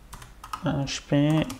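A few quick key clicks on a worn computer keyboard come while entering code commands, brief taps at the start, then a voice takes over.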